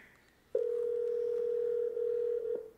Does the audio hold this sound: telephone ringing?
yes